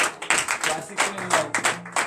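Rhythmic group clapping in praise during a Saturday morning prayer service, steady claps roughly every quarter second with a broad crowd sound, voices mixed in.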